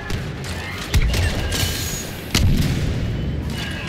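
Explosions in Star Wars Battlefront 2 on the Hoth map, two heavy booms about a second and a half apart, loud and close over steady battle noise.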